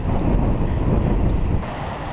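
Strong wind gusting in the French Valley of Patagonia, a loud continuous roar buffeting the microphone, easing slightly near the end.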